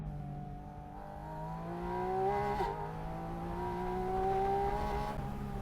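A Porsche drives past alongside an ordinary car, a steady engine drone with rising harmonic whine that swells twice as it passes, moderately distant, with no talking.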